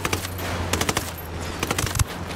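Rapid bursts of cannon fire in the tactical shooter game Ghost Recon Wildlands, sharp repeated reports in quick clusters over a steady low engine hum, fairly quiet in the mix.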